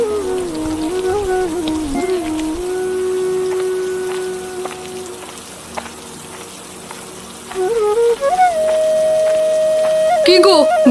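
Rain falling in a Bengali cartoon, a steady patter of drops running through the whole scene beneath music and character voices.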